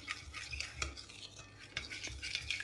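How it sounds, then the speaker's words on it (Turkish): A lemon juice, sugar and salt mixture being stirred briskly, giving soft repeated scraping and clinking of a spoon against the bowl, close and steady with no talking. "Güzelce karıştırıyorum."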